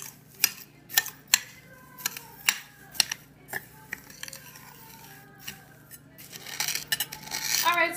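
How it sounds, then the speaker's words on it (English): Funyuns crushed inside a bag with a mallet: a run of sharp, separate crunching thuds, then denser crinkling and crackling toward the end, close and fairly loud. "Take a mallet, anything you want, and just crush them up."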